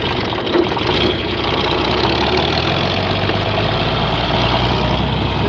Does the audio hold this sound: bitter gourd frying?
no